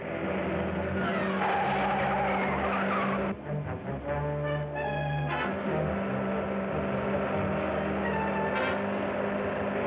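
A car races and skids through a chase, its engine roaring loud and steady. Squealing tires and a rising whine from the motor cut through in the middle, and a brief screech follows near the end.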